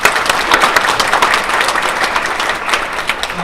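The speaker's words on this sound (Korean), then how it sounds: "다시 한번 김영배 부총리님께 박수로." Steady audience applause fills a hall after a talk by a vice-minister, dense clapping continuing evenly throughout at a close, loud level with no speech over it.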